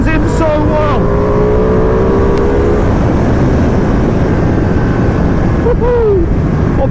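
A 2020 Ducati Panigale V2 sportbike being ridden, engine loud and close with a rising then steady drone buried in heavy wind rush, a brief pitch sweep near the end.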